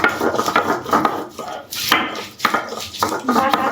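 Ginger is ground by hand on a grinding stone, giving close, repeated scraping and rubbing strokes in an uneven rhythm, with light clatter mixed in.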